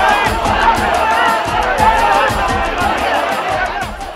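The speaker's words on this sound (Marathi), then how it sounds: "साईंच्या पालखीचं दर्शन घ्यायला अमाप गर्दी लोटते" A large crowd gathers for the Sai palkhi procession from Mumbai to Shirdi, raising lively cheering and hubbub. Regular percussive beats pulse beneath the voices.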